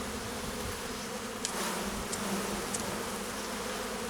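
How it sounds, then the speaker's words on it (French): A honeybee swarm hums in a steady, close, unbroken drone, with a few louder individual bees passing by, and no voices. "Ah, il y a un bel essaim là."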